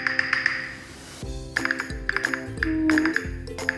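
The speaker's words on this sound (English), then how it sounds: "This is the sound of a castanets." Castanets clicking in quick bursts of sharp, bright clacks, with short pauses between rolls and a low tonal hum underneath, fairly close and clear.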